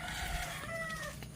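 Chicken clucking and calling nearby, a few short rising squawks and clucks heard alone at moderate volume, with no talking.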